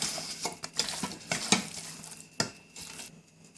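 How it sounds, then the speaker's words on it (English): Mutton is stirred together with spices in a pot, giving soft scraping and clinking strokes of a utensil against the metal at an irregular pace over a faint background, close and fairly quiet. "Then mix it thoroughly so it's covered everywhere."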